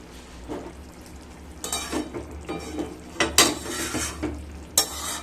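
A spoon scrapes and stirs potol chingri curry, pointed gourd with prawns, in a sizzling pan, with intermittent close scraping strokes over a low steady frying hiss.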